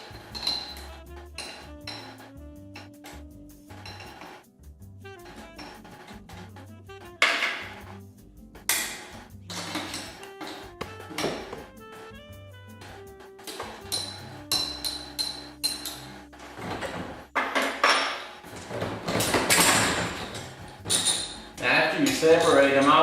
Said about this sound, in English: we're going to release the bolts here in the center that holds the stationary cone on the spring